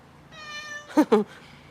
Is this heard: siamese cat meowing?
yes